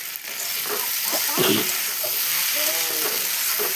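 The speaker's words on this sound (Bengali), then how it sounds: "এই যে মাছের ঝোল হচ্ছে" Fish curry cooking in a pan, with a continuous loud sizzle and bubbling close by and a few clinks and scrapes of stirring, without any speech.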